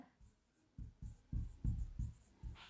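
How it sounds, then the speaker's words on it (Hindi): A bacterium's name is written on a classroom board: a series of short scratchy strokes, about seven, in an uneven rhythm, close and fairly quiet, with no one speaking. "मैं इसका नेम यहाँ पे लिखता हूँ"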